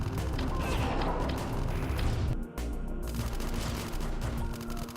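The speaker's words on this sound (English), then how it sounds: "you're probably hearing some gunfire in the distance if you listen real closely" Distant gunfire crackles in the AM2R: Return of Samus video game, a steady rattling fusillade of shots under a layer of game ambience, briefly dropping out midway before resuming.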